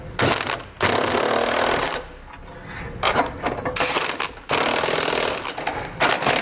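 Bursts of a rattling power tool drive nuts onto the bolts of a Curt trailer hitch receiver on a 2019 Subaru Ascent through a 3/4 inch socket, with three loud runs separated by short pauses, close by.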